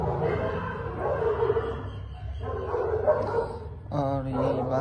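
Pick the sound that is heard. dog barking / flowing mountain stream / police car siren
dog barking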